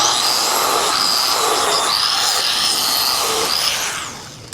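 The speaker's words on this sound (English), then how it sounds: "Let's weld it" Steady crackling hiss of welding on a custom rear frame for a 1941 Chevy with air suspension, loud and close, running continuously for about four seconds before tapering off, with no talk.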